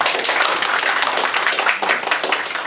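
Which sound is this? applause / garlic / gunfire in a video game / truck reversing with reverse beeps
applause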